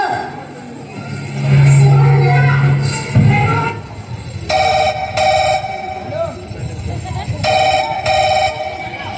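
A telephone rings in a Marathi stage skit, with two bursts of electronic ringing after voices and crowd murmur, loud and near.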